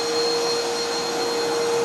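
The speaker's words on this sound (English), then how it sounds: "there's something wrong with this vacuum." A Shark or Dirt Devil vacuum cleaner runs with a loud, steady whine and broadband roar, close by, with no talking.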